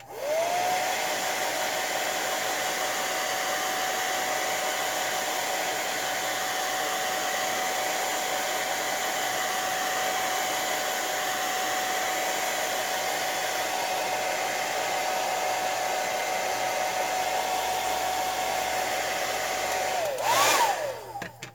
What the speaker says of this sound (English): for tonight's purpose, that's why I'm using the hair dryer